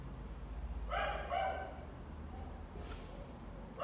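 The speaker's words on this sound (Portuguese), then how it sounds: "Vocês veem que os cachorros aqui na rua são incansáveis, né? Não sei de onde arruma tanto fôlego assim para latir, Jesus Cristo." Dogs bark out on a street, a short burst of yelps rising over a low, steady background rumble and then falling away.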